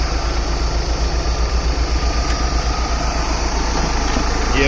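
A 2012 Mahindra Scorpio with the mHawk 2100 cc diesel engine idles steadily, a low continuous throb with a faint whine on top, recorded close with no talking.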